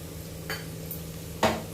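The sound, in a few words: ginger garlic paste frying in a pan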